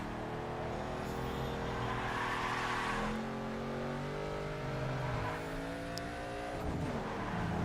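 A Ford Mustang's engine drones at high revs during a race in the PS2 game Need for Speed Underground 2, rising and falling through gear changes, loud and continuous throughout.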